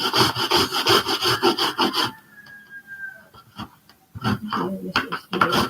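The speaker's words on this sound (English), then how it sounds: "I will grate the apple" A Fuji apple scraped against a grater gives a rapid, rough rasping rhythm for a couple of seconds, then stops briefly before short scrapes resume. A voice talks alongside.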